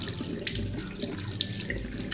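Cool tap water runs steadily from a faucet into a sink while a deep broken nail is rinsed, a close, continuous splashing stream with no pauses.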